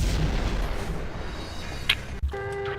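An explosion going off underneath the player in the Max Payne video game, heard as a dense rumbling blast with a sharp burst near the end, followed by a ringing tonal game sound.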